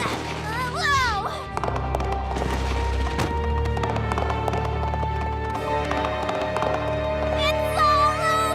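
Cartoon galloping hoofbeats of a headless horse in a spooky Halloween chase, a fast clip-clop under a busy music score with whooshes and effects, loud and close throughout.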